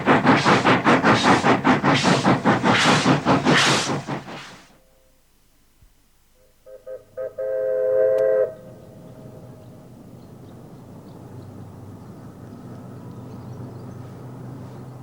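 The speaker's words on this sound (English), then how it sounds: "Steam Engine 933 climbs through the Flinders Ranges in South Australia on a trip from Quorn" Steam Engine 933 climbing through the Flinders Ranges in South Australia on a trip from Quorn: a loud, rhythmic chuffing for several seconds that drops away, then a brief whistle-like tonal blast and a steady lower rumble of the running train.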